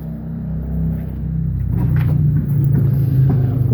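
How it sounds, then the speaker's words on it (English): Road traffic rumbles beyond a home garden as a vehicle passes with a low engine drone that swells and holds, moderately loud and without speech. "there's a lot of traffic noise today"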